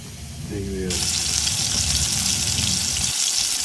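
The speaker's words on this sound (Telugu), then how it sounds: "ఉల్లిపాయలు ఆవాలు జీలకర్ర పసుపు ఎండు మిరపకాయలతో పోపు సిద్ధం చేయాలి" Onions, mustard seeds, cumin, turmeric and dried red chillies crackle and sizzle in hot oil, a dense steady frying hiss that starts softly and swells, continuing loud and close.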